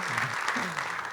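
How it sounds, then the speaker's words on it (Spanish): Brief, steady applause from a security conference audience, a dense patter of clapping with faint voices mixed in underneath. "Listo, aplausos."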